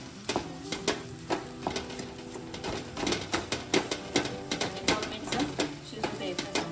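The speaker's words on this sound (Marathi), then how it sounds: "आता आपण चमच्याने थोडे बटाटे मॅश करून घ्यायचे।" Boiled potatoes mashed with a spoon in a pan of salted potato bhaji for bread pakoda, a rhythmic series of soft thuds and scrapes of the metal against the pan, close by, under someone speaking.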